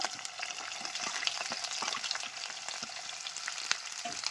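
Onion, green chillies and curry leaves fry in a pan for a liver fry, giving a continuous close sizzle with scattered crackles and pops and occasional stirring scrapes, and no talking.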